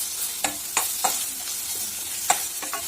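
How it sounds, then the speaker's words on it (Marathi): Red chili powder and garam masala sautéing in hot oil for South Indian sambar, a soft steady sizzle with several sharp spoon scrapes and taps against the pan. "लाल तिखट घालूया, थोडासा गरम मसाला घालूया आणि याला परतून घेऊया आपण"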